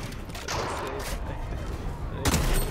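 Shotgun gunfire bursts from Fortnite gameplay, a loud blast near the start and another near the end over a noisy game background.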